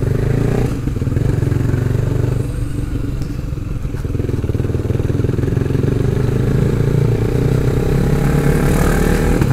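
A motorcycle engine and exhaust run continuously up close in city traffic, giving a loud, steady throbbing drone with some rattle and no talk.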